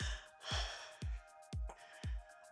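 Heavy breathing during a full-body resistance band workout, five close rhythmic huffs and gasps about half a second apart, each a short breathy burst with no speech over them.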